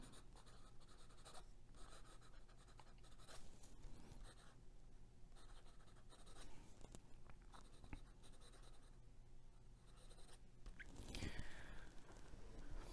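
TWSBI Classic fountain pen nib scratching across paper with noticeable feedback, a steady raspy scribble of strokes running continuously, close but quiet.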